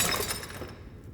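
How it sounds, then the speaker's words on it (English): A glass bottle hurled across a room shatters against a wall, a sharp bright burst of breaking glass with scattering fragments that fades out over about a second. "he throws the bottle across the room and it smashes on the wall"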